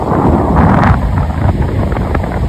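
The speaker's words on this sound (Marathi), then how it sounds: "पाण्याचा आवाज बघा तुम्ही पाण्याचा आवाज कसा येत आहे" Rough monsoon sea churning against the shore during traditional rapan net fishing: a loud, continuous roar of breaking waves and rushing water, buffeted by heavy wind noise on the microphone, with no talk.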